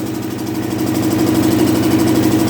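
A single-cylinder diesel engine chugs steadily at idle, a loud, even thumping rhythm close by with no change in speed.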